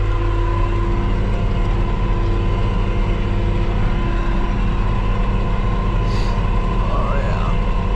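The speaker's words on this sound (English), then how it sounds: "Neighbor's over there, he just started the tractor." A tractor engine drones in a low, steady rumble on farmland during tillage work, continuous and fairly loud throughout.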